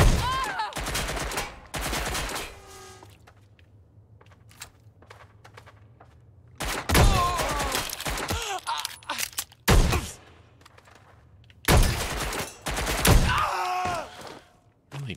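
Bursts of gunfire from the video game Watch Dogs Legion, loud broadband volleys and rapid shots in several clusters separated by quieter stretches with a low steady hum, with occasional voices mixed in.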